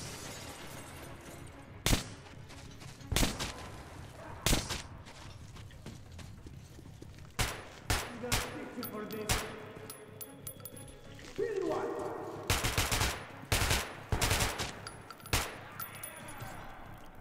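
Sharp, repeated gunshots from a weapon in the first-person shooter Metro: Last Light, irregular single cracks spaced a second or two apart with a tight cluster later, loud and close over faint background sounds.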